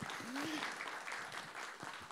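Faint audience applause at an event in Sabana Buey, a steady patter of many hands clapping from a distance, with a brief voice rising near the start.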